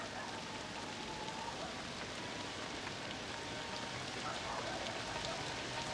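Rain falls in Hong Kong in a steady, even hiss of drops on surfaces, faint and unbroken throughout.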